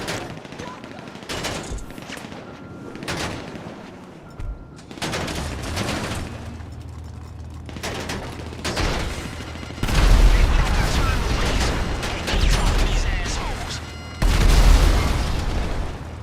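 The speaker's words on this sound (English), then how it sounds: "I prefer to use the heavy rifle." Heavy rifle gunfire in GTA 5 Online: loud bursts of automatic shots and booming impacts, building into dense volleys with explosive thuds, close and forceful over background game noise.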